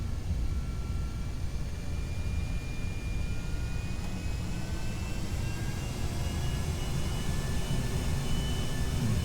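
An aircraft jet engine throttles up after touchdown in the video game Kerbal Space Program, a steady, loud roaring rush with a faint rising whine, continuous throughout.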